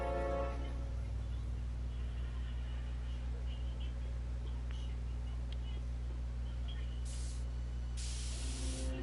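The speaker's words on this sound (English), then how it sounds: "My spray can?" A spray paint can hisses in a steady, continuous stream over a constant low background hum, with a brighter burst of spray near the end.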